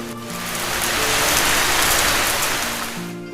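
Heavy rain falling outdoors, a dense continuous hiss that swells louder through the middle and eases slightly at the end, with faint tonal hum underneath.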